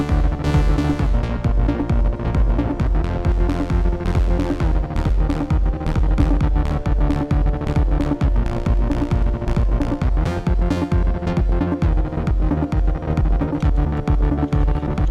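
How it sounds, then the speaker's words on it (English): A Roland TB-03 bass synthesizer pulses inside a dense, loud techno groove, with throbbing low bass notes and drums running continuously at a steady fast tempo throughout. "the TB03 almost starts to sound like a tom"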